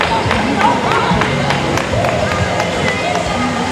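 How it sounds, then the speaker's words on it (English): An audience claps in a steady, dense round of applause that carries at full strength from start to end, mixed with crowd babble and a few whoops. "Y'all give yourselves a round of applause."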